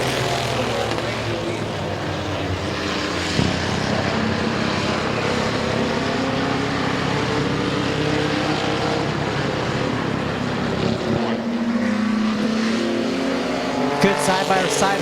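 A pack of race cars roars off at the start of a race at Midvale Speedway, a dense, loud wash of engines sweeping past nearby, with a track announcer talking over the noise.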